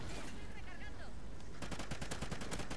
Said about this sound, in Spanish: No sé a dónde estoy disparando.